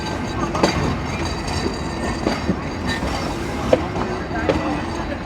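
The Rupsha Express rolls into Bheramara railway station in Kushtia, its wagons clattering in a steady clickety-clack with occasional sharp wheel knocks and faint squeals, loud and close with no talking.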